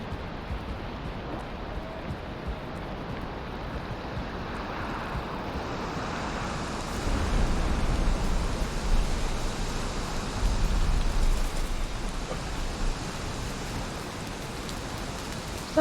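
Steady rain falls in the Valheim video game, a continuous broadband hiss that swells louder midway through, with no voices.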